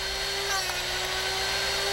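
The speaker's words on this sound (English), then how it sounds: "When sharpening, listen carefully to the sound your drill doctor makes." A Drill Doctor sharpener grinding a drill bit correctly, a steady high-pitched whining grind with a constant buzzing tone, loud and continuous throughout without pauses.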